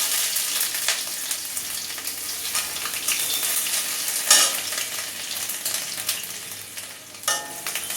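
Garlic sizzles in hot oil with bay leaf, dried red chili and whole cumin, giving a steady close crackle with occasional sharper spits and stirring scrapes; no one speaks.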